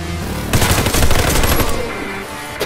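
Automatic gunfire in the video game Warface on the Widestreet map, with a loud close burst of rapid shots lasting over a second that trails off into echoing reports.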